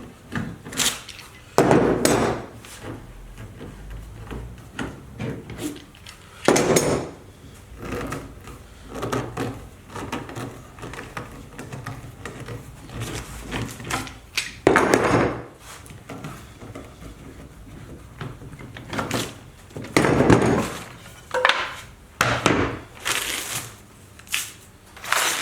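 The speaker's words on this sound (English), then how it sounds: "So the glue's dry now, so we'll take the clamps off" Clamps come off a glued wood scarf joint with irregular knocks, clunks and rattles spread over the span, sharp bangs standing out against a low background.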